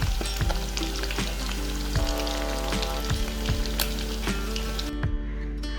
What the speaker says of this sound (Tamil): நான் இதில் அவிச்ச சிக்கனை போட்டு பொரிக்க போகிறேன்